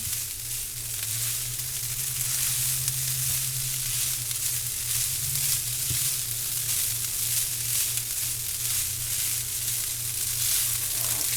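Fried rice sizzles steadily in a pan as it is stirred, a continuous close hiss with a low hum underneath, and a single brief scrape partway through.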